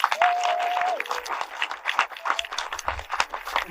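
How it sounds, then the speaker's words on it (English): Audience applauding cast members after a film screening and live chat, with busy, continuous clapping from a crowd that swells and eases, and a brief tonal blip early on. "can we have a round of applause for Mark Hadfield?"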